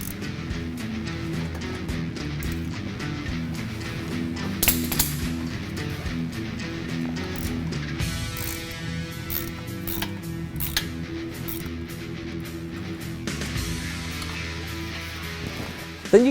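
Transmission mount bolts on a Ford F-150 with a 3.5L EcoBoost being loosened with a ratchet, a rapid clicking pawl running in bursts with metallic clinks between, close and steady, no talking.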